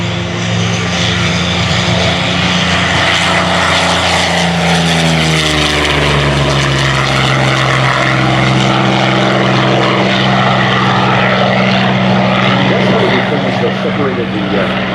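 Spitfire warbird flying at a beach airshow, a loud continuous propeller-engine drone whose pitch slides downward as it passes, with a voice speaking over it throughout.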